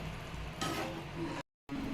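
Green peas gravy bubbles and sizzles steadily in a pan up close, broken by a brief moment of silence.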